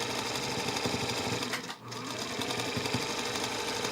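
A domestic sewing machine runs continuously, loud and close, stitching fabric strips together with a steady mechanical whir that drops out for a moment midway and then resumes.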